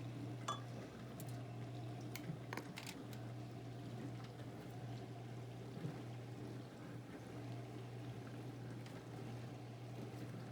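Water is poured for a kids' chemistry experiment, a faint steady liquid trickle and fill with a few small clinks near the start, quiet and without talk.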